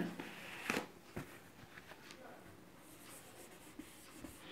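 Faint scratchy strokes of a pen or chalk writing on paper or a board, a few brief sharper taps among quiet scribbling, close and soft.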